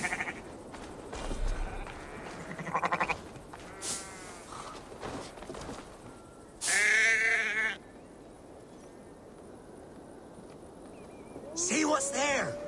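Several sheep in a video game bleat in short, wavering cries, some loud and close, separated by quieter stretches with light rustling in the background.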